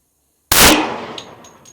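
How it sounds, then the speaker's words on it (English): A single .50 caliber sniper rifle shot fired at an engine block cracks out loud and sharp after silence, followed by a long ringing decay and a few faint metallic pings. "I'm gonna shoot it one more time, hit that wall."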